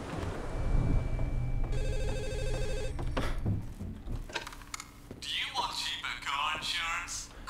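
A telephone rings in the horror game Underhell, a repeated electronic trill in short bursts over game ambience, followed by someone talking.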